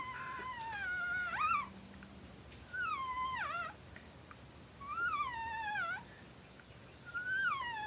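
A puppy cries in four drawn-out, wavering whines, close by, with short pauses between them.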